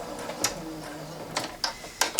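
A home sewing machine stitches straight along the side seams of a fabric wheelchair coat, a low mechanical whir punctuated by a few sharp clicks and clunks, close and brief.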